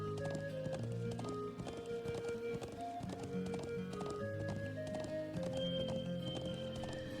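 Horse hooves clip-clopping steadily in the video game Trails of Cold Steel, a continuous rhythmic trot of a black stallion over layered game music, close and clear.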